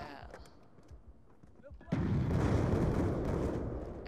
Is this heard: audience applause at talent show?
no